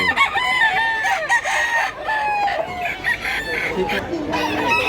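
Roosters at a chicken sale crow again and again, loud and close, with clucking and other birds calling under them. A voice is faintly heard in the busy background.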